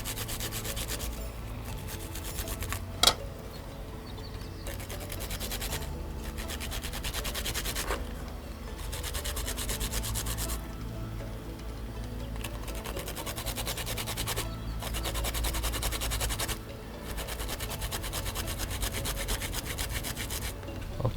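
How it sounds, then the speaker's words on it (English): Okra being grated by hand for okra soup, a continuous close rasping scrape in long steady runs with a few short breaks and one sharp knock, no talking. "Okay, our okra is now grated."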